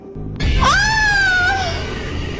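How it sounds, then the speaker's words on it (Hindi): A woman's high, drawn-out horror scream in a dramatised horror story, rising sharply and sustained for about a second before tailing off, loud over a steady background. "उसकी चीख निकल गई"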